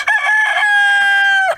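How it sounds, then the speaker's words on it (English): A single quail rooster crows once, close and clear, with a short bright call lasting under two seconds, alone with no other sounds around it. "the rooster crow for quail is much more pleasant and soft"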